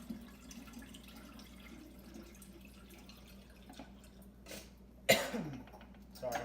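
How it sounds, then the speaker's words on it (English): A single sharp cough bursts out near the end over a quiet room with faint running water, followed by a smaller throat sound. "I'm gonna have to deal with my coughing a little bit"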